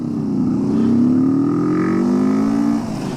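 Motorcycle cruising steadily along an open mountain road between Muzaffarabad and Leepa Valley, a continuous engine drone with a slight rise in pitch, close and loud throughout, no talking.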